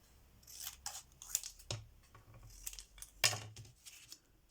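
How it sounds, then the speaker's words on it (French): Scissors cut card while an Easter greeting card is being made. A handful of sharp, close snips come at irregular intervals over faint room quiet, with no talking. "les ciseaux"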